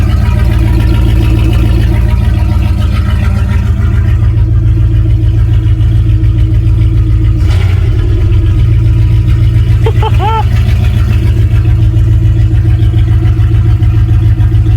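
A loud truck engine with no exhaust fitted idles with a raw, rumbling drone throughout, a brief clatter partway through.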